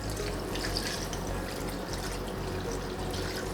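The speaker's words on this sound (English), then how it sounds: "now I'm gonna add the water." Water poured into a roasting pan holding a turkey, a steady, continuous rushing splash lasting several seconds, close and fairly loud with no talk over it.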